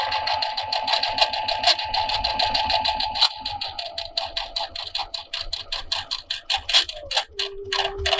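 A Brother sewing machine stitches with a twin needle, making a fast, even mechanical ticking close by, with a whining motor tone that shifts pitch partway through and slows near the end.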